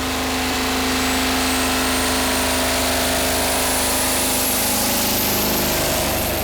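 A pulling tractor at a Danish championship tractor-pulling event roars with a loud, continuous engine drone that rises gradually in pitch as the throttle opens, dense and unbroken throughout with no audible talk.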